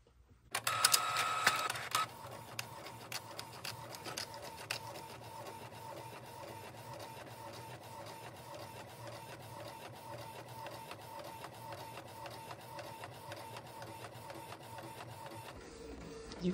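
A home printer feeds tissue paper with a sharp mechanical clatter at the start, then settles into a steady, continuous whirring hum that runs on evenly for over ten seconds, fairly quiet and without talk.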